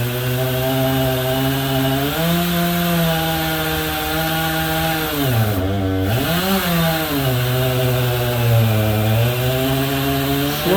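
Portable chainsaw mill cutting through wood, a loud, close engine whine held steady with the pitch dipping and recovering midway as the load changes, continuous throughout with no talk.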